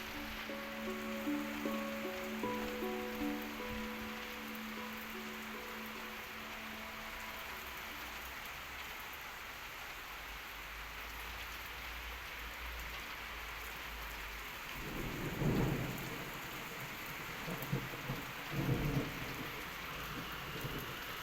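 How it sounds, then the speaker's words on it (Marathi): Heavy summer rain pours in a steady dense hiss, and low thunder rumbles roll in twice near the end, with no voices. "ढगांच्या कडकडाटाबरोबर पावसाचा जोरही वाढलेला आहे."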